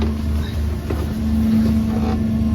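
Electric outboard motor on a boat running at peak speed, drawing about 1700 watts: a steady hum with a strong constant tone and low rumble, continuous and fairly loud, with water and wind noise around it.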